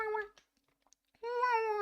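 A streamer voices two short, high, meow-like whines to imitate a slugcat from the video game Rain World, separated by a near-silent pause with faint clicks.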